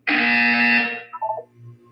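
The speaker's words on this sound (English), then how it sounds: "You will hear a buzzer." A buzzer in the video game Portal 2 gives one loud, harsh tone for about a second, followed by a short, fainter trailing tone pattern.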